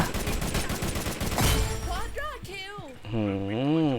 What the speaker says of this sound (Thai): เขายิงกัน